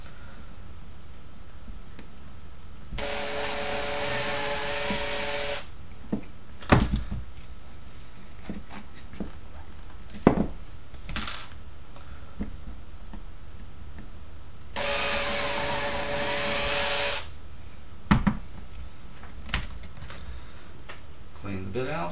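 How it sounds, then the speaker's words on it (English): Two separate bursts of a power drill whirring for a few seconds each, drilling holes in stages for an RC car bumper, with scattered clicks, knocks and handling noises between them. "I do tend to drill all my holes out in 3 steps."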